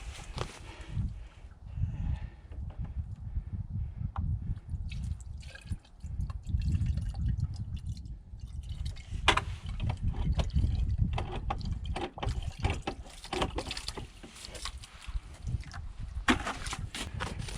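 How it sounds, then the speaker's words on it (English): Water gushes and splashes from a hand-operated cast pitcher pump as it is primed and worked, a continuous sloshing, dripping flow with intermittent squeaks and clanks of the handle, close and steady throughout. "prime the pump."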